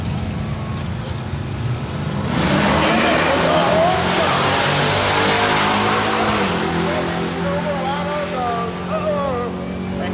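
Turbocharged pickup trucks roar off the line at a drag strip, one a GMC four-wheel drive and one an LS-swapped C10, engines loud and sustained with rising revs, crowd and announcer talk mixed underneath.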